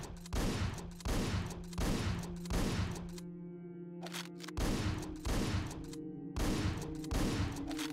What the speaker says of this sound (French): dans certaines situations où on a besoin d'avoir 2 coups rapides avec le shotgun, et ben en fait on se tape la cadence de tir lente